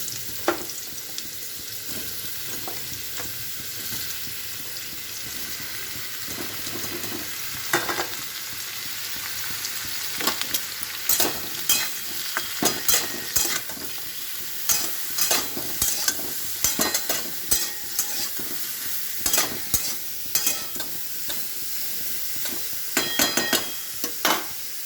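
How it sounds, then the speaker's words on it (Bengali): Mushrooms sizzle in hot oil, a steady close crackling hiss broken by frequent sharp clicks and scrapes of stirring that grow busier over the second half. "পাশে আমি মাশরুমটা বসিয়ে দিচ্ছি, মাশরুমটা ভাজা হচ্ছে"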